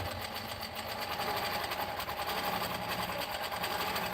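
A longarm quilting machine stitching in the ditch on a quilt, producing a steady, fast mechanical whir with a rapid rhythmic needle chatter, close and continuous with no speech.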